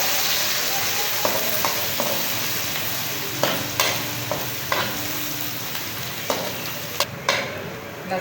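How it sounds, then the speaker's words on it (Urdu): Onion fries with garlic ginger paste in cooking oil, giving a steady, close sizzle with intermittent scraping clicks of a spoon stirring the pan. "ایک درمیانے سائز کی پیاز فرائی کر لیں گے۔"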